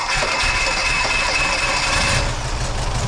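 A small engine runs with a dense, buzzing mechanical roar, loud and close throughout, without clear pauses.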